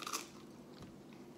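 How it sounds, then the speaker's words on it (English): A crunchy Red Baron French bread pizza crust is bitten, giving one sharp crisp crunch up close at the start followed by faint chewing. "Crust. It's really crunchy. It's got a lot of crunch to it."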